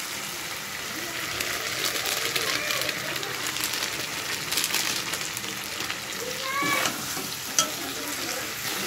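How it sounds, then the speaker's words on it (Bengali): Chili powder fries in oil in a pan while being stirred, a continuous bright sizzle with scraping spatula strokes throughout and a brief high squeak near the end. "এবার লঙ্কার গুঁড়ো দিয়ে ভালো করে নাড়াচাড়া করে নেব।"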